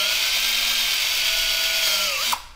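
A power drill whirs steadily at high speed for a couple of seconds, pitch dipping slightly as it bites into a wood stud, then cuts off abruptly near the end.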